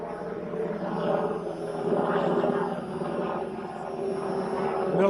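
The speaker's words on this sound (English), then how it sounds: "let me wait for this chopper to get over" A military helicopter passes overhead with a steady, droning rotor and engine roar that swells and holds at a moderate distance, heard alone with no talking.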